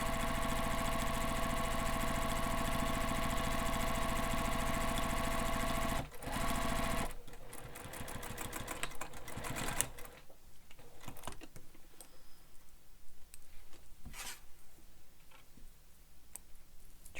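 A sewing machine runs in a long, steady burst while stitching a bag strap, then stops; a short pause follows and the motor restarts in uneven stretches, with lighter clicks and handling taps as the work slows toward the end.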